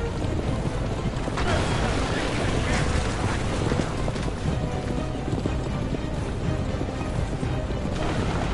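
A horse gallops in an Assassin's Creed Brotherhood video game, its hooves drumming in a fast continuous rhythm, loud and near, blended with a dense wash of game noise.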